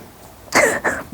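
A woman's single sharp sneeze indoors, close and abrupt, followed by a short breathy tail and a brief vocal sound.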